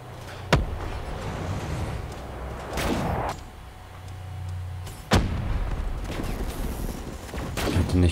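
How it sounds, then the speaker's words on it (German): Call of Duty Black Ops 3 gunfire rings out in sharp, loud single shots with scattered bursts and mechanical clatter from the game, spaced across several seconds. "Nicht gedacht, dass dieser Schuss trifft."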